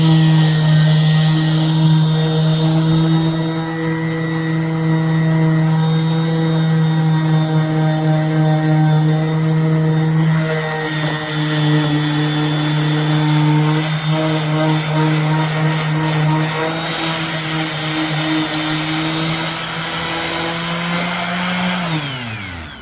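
A DeWalt DWE6423 or Porter Cable 340 random orbital sander running with dust collection, giving off a loud, steady motor whine that holds unbroken and drops away right at the end.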